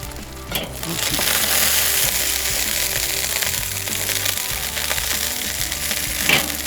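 80/20 beef cheeseburgers sizzling on a charcoal grill, a steady, loud crackling hiss that runs unbroken throughout, with a few brief scrapes and clinks near the end.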